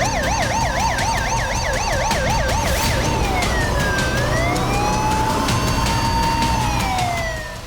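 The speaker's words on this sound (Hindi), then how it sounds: "शहर और सड़क पर पुलिस और एम्बुलेंस के सायरन का" Loud wailing police and ambulance sirens on city streets in Lebanon, one rapidly warbling and another slowly sweeping up and down, with traffic rumbling underneath.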